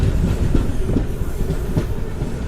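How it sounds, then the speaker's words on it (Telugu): The Tirupati–Puducherry MEMU express pulls out of Kanchipuram station with a loud, close, continuous rumble and rhythmic clatter of wheels over the rails. "మన ట్రైన్ వచ్చేసి కాంచీపురంకి అయితే వచ్చింది, బయలుదేరిపోయింది"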